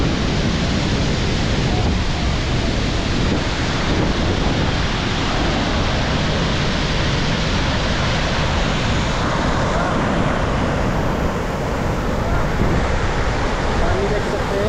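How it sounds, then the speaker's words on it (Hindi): Water rushes hard and loud from three open gates at Derjang Dam in Angul, Odisha, a dense, constant roar that fills the whole clip; a voice speaks faintly beneath it. "पानी देख सकते हैं कितना जोर से तेजी से बह रहा है"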